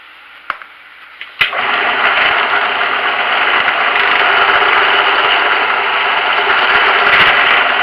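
A drill press running steadily in a machine shop, center drilling holes in a workpiece held in a vise: a sharp click and brief knock, then a continuous bright whirring drone that holds level to the end, with no talk.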